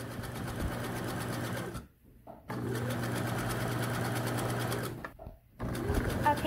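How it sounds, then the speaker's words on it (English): A sewing machine stitches a hoodie sleeve in fast, even mechanical whirring runs, broken by two short pauses. It is close and clear, with no talking. "right now she's sewing the other sleeve"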